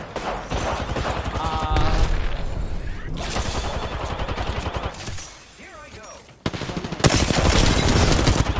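Dense Apex Legends gunfire: rapid automatic bursts crackle almost continuously and loudly, dip briefly into a quieter lull, then resume in a heavy final burst, with a voice talking faintly underneath.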